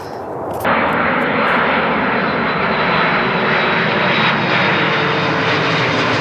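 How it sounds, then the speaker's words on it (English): Airplane flying low overhead near Minneapolis airport, a loud engine roar that surges in abruptly and then holds as a broad, steady rush. "planes are constantly flying over our office, but sometimes the planes fly super low"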